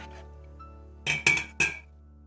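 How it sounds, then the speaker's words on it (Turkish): A spoon stirs yogurt starter into milk in a bowl, giving three sharp, close clinks in quick succession against a quiet background. "mayamızı hazırladığımız aktif mayamızı içerisine ekliyoruz ve iyice karıştırıyoruz"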